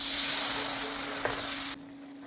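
Onion and tomato frying in hot oil for egg thokku, a steady close sizzle that continues evenly, with a brief clink partway through before the sizzle drops off suddenly near the end.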